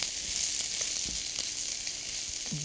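Mushrooms frying in a wok skillet give a steady, close hissing sizzle throughout, with a few faint clinks and stirring knocks and no talking.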